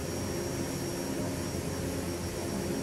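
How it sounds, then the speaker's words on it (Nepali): A Royal Nepal Airlines Twin Otter flying IFR from Janakpur to Kathmandu, its propeller engines droning in a steady, loud, unbroken cabin roar with a constant whine on top. "अप्टिमल क्लाइम्बिङ हाइटको लागि प्रोपेलर मिलाउँ"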